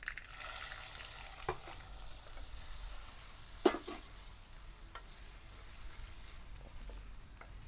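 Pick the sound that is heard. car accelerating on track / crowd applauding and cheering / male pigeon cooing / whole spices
whole spices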